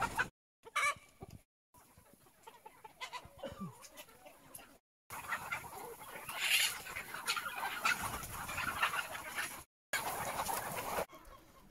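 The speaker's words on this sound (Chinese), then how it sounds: "现在已经到鸡棚了，抓一只" Chickens clucking and stirring inside a chicken coop at night, with soft scattered clucks, rustling and a few brief flutters coming and going in short bursts, fairly close but not loud.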